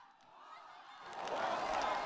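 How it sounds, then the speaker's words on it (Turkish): A rally crowd in Istanbul roars and chants for a district mayor, the noise swelling from a quieter start into a loud, dense wall of voices for the second half. "tezahüratlar size devam ediyor değerli başkanım"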